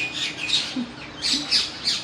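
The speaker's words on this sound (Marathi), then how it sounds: "यावर आत्ता जवळपास आठ ते दहा पोपट येऊन बसलेले आहेत" Harsh parrot squawks repeat in a loose series, shrill and fairly close, with a faint bird chirp and no voices.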